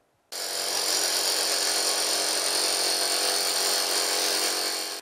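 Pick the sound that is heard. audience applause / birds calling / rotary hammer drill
rotary hammer drill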